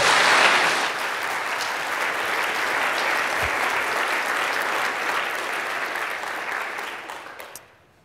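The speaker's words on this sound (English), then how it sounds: "I think it'd be really nice if you could give him a huge round of applause." Large conference keynote audience applauding, a dense sustained wash of many hands that starts loud, holds steady for several seconds, then tapers off and fades out near the end.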